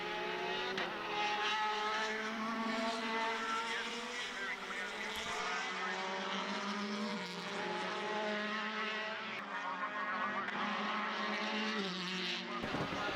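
Formula single-seater race cars on the last lap of a Formula BOSS Ireland race, a sustained high engine whine with shifting pitch as cars pass, under commentary.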